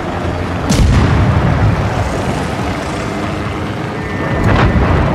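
Torpedo hits and ship explosions in the naval combat game World of Warships: two loud, deep booms about four seconds apart over a steady rumbling game soundscape.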